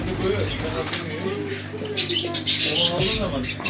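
Budgerigars chirp and squawk in a pet shop, with bursts of bird calls rising in the second half, mixed with nearby talk and shop background noise.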